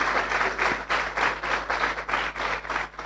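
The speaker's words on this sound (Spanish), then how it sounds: "Qué les parece si le damos un aplauso al Señor por la vida de los pastores David Guevara, Mireya" A church congregation claps together in a steady, rhythmic beat, about two claps per second, moderately loud and close, with no talk over it.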